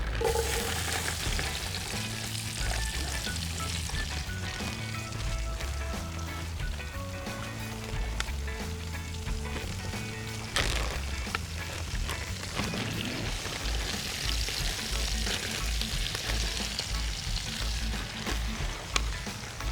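Chopped vegetables for jambalaya sizzle loudly in a pot outdoors on a beach, a dense steady frying crackle with scattered pops and stirring clatter throughout, and no talk.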